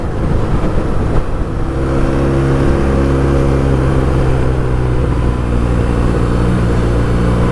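A BMW R nineT Urban GS motorcycle engine rumbles loud and continuous while riding on twisty roads, with heavy wind buffeting and no voices.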